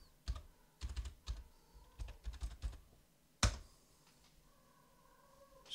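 Someone types a password in a few short bursts on a computer keyboard. The clicks are soft and close, with one sharper knock partway through and a quiet hum in the pauses.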